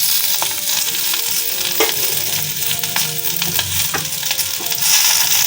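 Spices, ginger paste, green chilli and tomato for vegetarian aloo dum frying in a pan with a steady loud sizzle, while a spoon stirs and scrapes in regular strokes close by.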